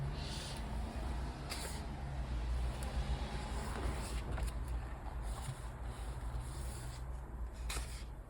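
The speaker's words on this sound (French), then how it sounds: "Désolée pour le bruit derrière, c'est toujours pareil quand j'ouvre ma porte-fenêtre, on entend tout le bruit de dehors." Constant outdoor street traffic heard through an open French window rumbles steadily, with engines and occasional hissing bursts like air brakes, at a moderate distance.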